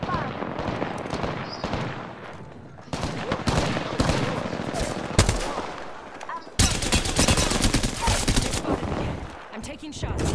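Sustained gunfire in a shooter video game, dense rattling bursts and heavy shots filling the scene, loud throughout with abrupt shifts in intensity and battle noise, a voice faintly mixed in.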